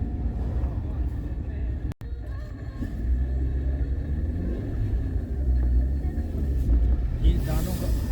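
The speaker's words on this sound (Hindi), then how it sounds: "इस रोड पे ट्रैफिक काफ़ी है।" Steady road traffic rumble on a busy mountain ghat road in Himachal Pradesh, a continuous low drone of passing vehicles, fairly loud and close, with one brief dropout near the start.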